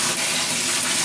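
Shower water runs steadily while a hair system is rinsed on the head, a continuous close hiss of spray with no pauses.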